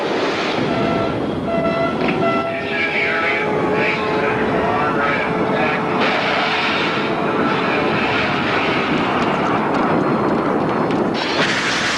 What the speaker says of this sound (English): Hundreds of fighter jets and bombers take part in an all-out effort to destroy NATO's air force